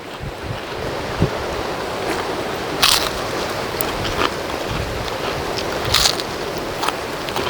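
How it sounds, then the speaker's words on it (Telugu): Strong wind blows outdoors where homemade sago papads are laid out to dry, a steady broadband roar swelling into louder gusts around the third and sixth seconds, with no voices. "గాలి బీభత్సంగా వేస్తుందండి."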